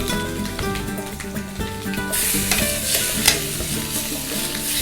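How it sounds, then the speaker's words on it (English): Marinated chicken pieces go onto a ripping hot grill pan and burst into a loud, bright sizzle halfway through, over soft background music, with earlier stirring clatter. "Chicken's fully marinated, ripping hot grill pan. Just gonna go ahead and set these bad boys right in here."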